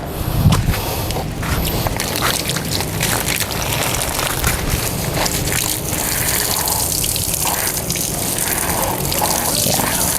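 Steady, loud gush of water poured while watering a Jupiter grape plant, a continuous splashing stream lasting throughout with no pauses.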